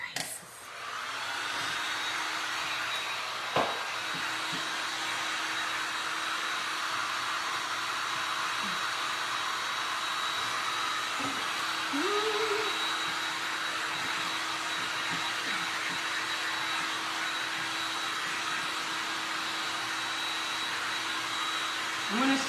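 A hair dryer blows steadily on glass and resin art, a constant close whirring roar that runs throughout with a few faint clicks and brief small sounds over it.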